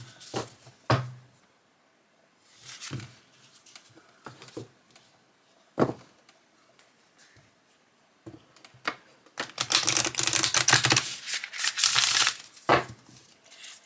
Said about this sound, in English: All right, so let's see how they shuffle.